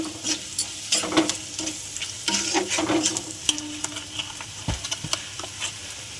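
Cumin powder, red chilli, turmeric and salt are stir-fried in a pan for a potato and egg curry. Close sizzling runs under repeated scraping stir strokes, with no talking.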